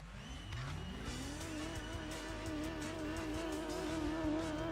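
A race car engine with a racing exhaust in Gran Turismo 2 roars as it climbs through the revs, with a buzzy, raspy exhaust note and a hint of tire squeal.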